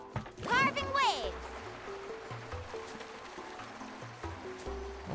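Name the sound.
surfboard carving waves in video game Genshin Impact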